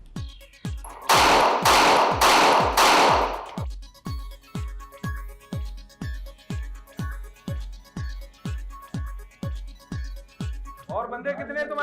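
Real police raid gunfire during an arrest: three loud, dense bursts of shots early on, followed by a long train of regularly spaced sharp cracks, with a voice briefly heard at the end.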